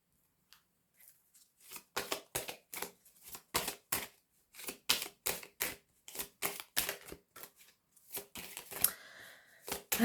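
Tarot cards being shuffled and laid out, a rapid run of sharp card snaps and slaps in quick uneven bursts, close and crisp, with brief pauses between clusters and no talking.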